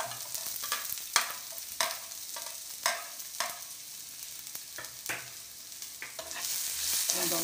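Chopped onion fries in a pan for Indian ragda chaat, a steady hiss of sizzling broken by a series of sharp scraping clacks from stirring, close and moderately loud.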